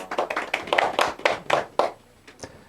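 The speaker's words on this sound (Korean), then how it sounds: "박수 좀 한번 쳐주세요." Church congregation clapping together at a sermon, a quick run of sharp, close handclaps that thins out and fades to a few scattered claps at the end.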